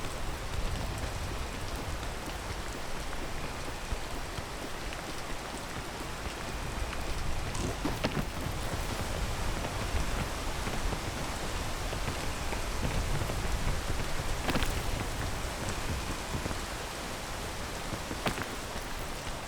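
Steady rain pours down in a video game, a dense continuous hiss of falling water with occasional louder patters, heard alone without speech throughout.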